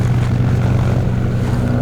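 A Victa Airtourer 115 light propeller aircraft flies at a vintage aircraft fly-in, its engine a loud, steady drone that holds level throughout without a break.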